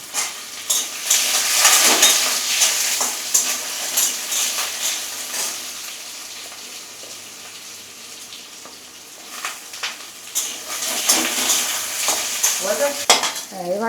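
Panch phoron spices with papaya and potato sizzle hard in a hot wok while a utensil stirs and scrapes, bright frying hiss loud and steady with clinks of metal on the pan.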